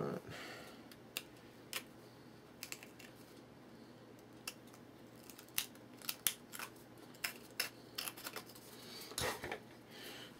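A knife slicing through fuel tubing for a Big Stick 40 model airplane, a series of faint, close crisp snips and scrapes in irregular clusters, with no voices.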